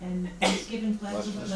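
A single sharp sneeze bursts out mid-clip during a town board meeting, cutting through a person speaking steadily in a room.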